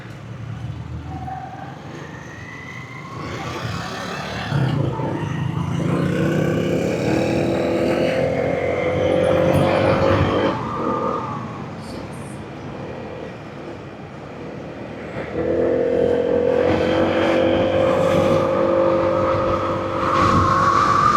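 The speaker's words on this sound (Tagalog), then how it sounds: "Traffic na doon." Street traffic in the Philippines rumbles past, cars and motorcycles approaching and receding in overlapping waves of engine noise, with louder passes near the middle and the end and quieter gaps between.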